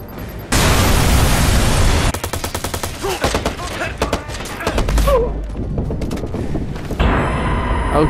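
Rapid bursts of gunfire in the open-world game Watch Dogs, a heavy volley at first, then a long run of sharp repeated shots with explosive pops, loud and close throughout.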